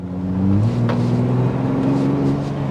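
The twin-turbo EcoBoost engine of a 2023 Ford Bronco Raptor pulls hard under acceleration, a loud, close, rising drone that shifts pitch once and keeps climbing, heard from inside the cabin.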